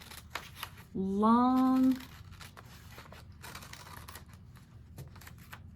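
Scissors cut paper into strips for making paper beads, producing a series of quick, crisp snipping and rustling clicks close by, with a person briefly speaking partway through.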